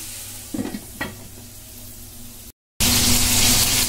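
Winter vegetables and dried fish sautéing in a pan, with a couple of scraping stirs over a soft sizzle, then a brief gap before a louder, steady hiss of frying.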